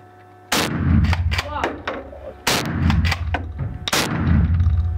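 Sport guns firing in a rapid cluster of loud, close reports, several sharp bangs in quick succession after a brief quiet start, each trailing into a rumbling echo.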